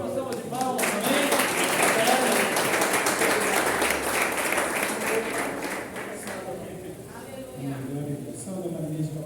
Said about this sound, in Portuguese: Receba o servo do Senhor com a salva de palmas